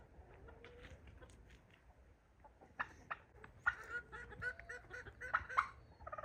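A turkey on a farm gobbles in several short, bursty calls that grow busier toward the end, set against quiet outdoor background and faint nearby fowl.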